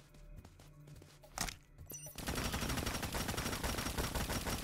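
Sustained automatic machine-gun fire in the PC game Tamarin, a loud, dense rattle of rapid shots that starts after about two seconds of quieter game sounds and runs unbroken to the end.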